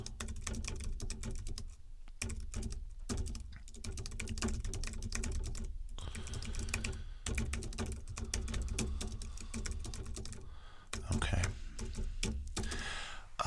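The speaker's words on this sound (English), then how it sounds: "let me just type a little bit more on my notes" Close, crisp clicking of fingers typing on a computer keyboard in bursts with brief pauses, as at a help desk, with a voice speaking intermittently around the keystrokes.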